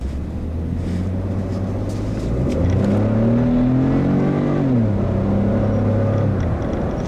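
A 2014 Ford F-150 XLT EcoBoost pickup accelerates, its engine drone climbing in pitch, peaking and then easing back, heard steadily up close with some wind noise and no talk.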